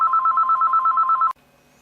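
A mobile phone ringtone trills in a fast, even pulsing pattern, loud and close, then cuts off abruptly after about a second and a half, leaving a quiet room.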